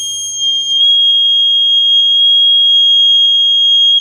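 A Snap Circuits W1 horn blares one piercing, continuous high-pitched electronic tone, very loud and steady for about four seconds.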